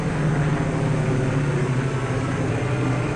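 One of the world's largest aircraft, carrying atomic material, roars steadily as it speeds down a runway for takeoff, a loud continuous engine drone with a low rumble and no pauses.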